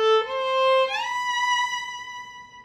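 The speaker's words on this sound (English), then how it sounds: "you're going to slide all the way up the violin and pluck at the top." A violin note bowed low, then the finger slides smoothly up the string with a rising pitch and ends on a plucked, ringing high note that slowly fades. It is close and clear, with no talking.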